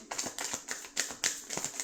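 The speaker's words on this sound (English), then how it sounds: "I have to really shuffle these" A deck of oracle cards is shuffled by hand, giving a rhythmic series of crisp, close riffling snaps, about seven quick bursts in under two seconds.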